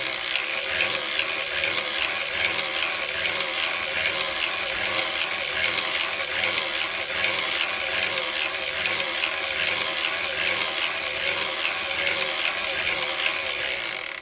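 A circular sock knitting machine is cranked steadily, giving a dense, continuous rattling clatter of needles and mechanism up close, with no break in rhythm.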